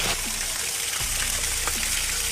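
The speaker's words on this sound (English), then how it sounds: "this one's inside of a waterfall" Water pours steadily down a waterfall with an eternal flame burning inside it, making a dense, continuous rushing roar that stays loud and close throughout, with no voices.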